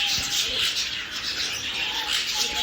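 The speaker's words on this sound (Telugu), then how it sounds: "ఏంటన్నా బ్యాక్గ్రౌండ్లో ఇట్లా పక్షుల మ్యూజిక్ వింటుంటే ఎంత బాగుంటుందో కదా" A steady chorus of birds chirps and calls in a hill-station park, thin and distant but unbroken, with a few clearer high notes standing out.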